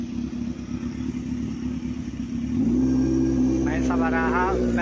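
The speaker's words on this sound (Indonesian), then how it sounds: "ini motor siapa?" A motorcycle engine idles outside a football stadium before a Persib Bandung match, a low steady rumble that grows louder and fuller partway through, close by, with a voice talking over it near the end.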